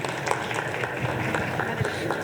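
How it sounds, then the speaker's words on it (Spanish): Audience at a workshop on electronic invoicing and accounting applauds, a steady dense patter of many hands clapping throughout, fairly close and even in level. "Les pido un aplauso, por favor."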